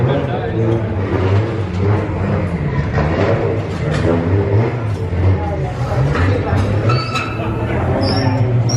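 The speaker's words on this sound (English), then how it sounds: "the exhaust is even better now" A drift car's LS V8 engine rumbles with a loud, continuous exhaust note and shifting revs nearby, while voices chatter over it.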